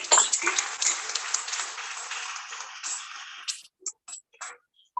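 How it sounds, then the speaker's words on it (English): At a Toastmasters club meeting, an audience applauds the speakers with dense clapping that fades after a few seconds into a handful of scattered single claps. "welcome a big applause for our speakers"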